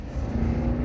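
A car passing on a nearby road, a steady low engine and tyre rumble that holds at even loudness through a brief moment, with no voices.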